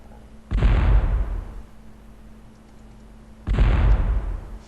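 Two heavy blasts of shooting in the strategy game Svea Rike II, each a sudden loud burst that fades away, about three seconds apart, with a low steady hum between them.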